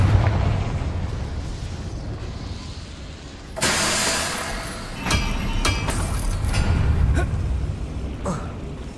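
A Confringo blasting spell in Hogwarts Legacy detonates with a loud, sudden boom partway through, followed by several sharper crackling bursts over a low rumbling background.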